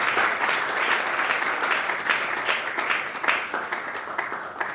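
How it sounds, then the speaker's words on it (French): Crowd at an award ceremony clapping for an artist, a continuous, moderately distant patter of many hands with irregular sharper claps poking through, sustained evenly throughout with no talking. "Est-ce qu'on peut applaudir pour l'artiste,"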